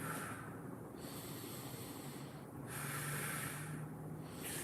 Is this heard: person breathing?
yes